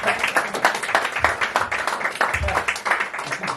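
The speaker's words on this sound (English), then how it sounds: "let's clap for anyone who happens to be new here" Audience clapping for newcomers at a poetry New Year celebration, a scattered round of hand claps in a room mixed with a speaking voice.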